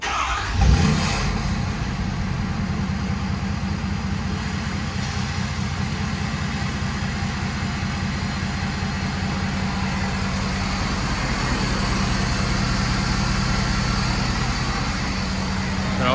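A 2020 Ford F-250 with a 6.7L diesel, DPF delete and 4-inch straight pipes from the turbo back idles in a steady, deep, throbbing rumble after a brief bump at the start, close up and alone.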